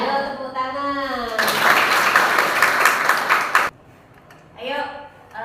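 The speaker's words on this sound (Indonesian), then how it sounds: "Ayo tepuk tangan." Students in an Islamic studies class at IAIN Madura clap together in a loud, dense burst of applause lasting about two seconds, framed by a teacher's speech before and after.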